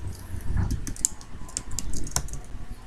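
Steady typing on a computer keyboard while code for a programming assignment is entered, with clustered key taps and a few louder clicks, close and clear, without any talk.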